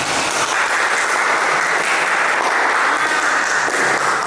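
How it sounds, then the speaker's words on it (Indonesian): Loud, dense applause from a classroom group, a constant clatter of many hands clapping together without a break. "Tepuk tangan teman-teman."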